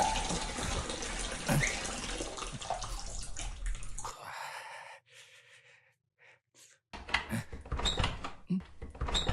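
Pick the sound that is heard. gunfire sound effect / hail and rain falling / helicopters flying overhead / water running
water running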